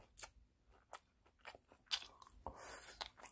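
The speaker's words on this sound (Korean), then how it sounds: "아삭아삭하고 기가 막힙니다, 오늘." Close, crisp bites and crunchy chewing of seasoned deodeok root dressed without pungent vegetables, heard as a series of sharp, separate crunches at irregular intervals against near silence.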